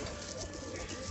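Local desi pigeons cooing softly, a brief faint murmur of coos heard alone in an outdoor setting.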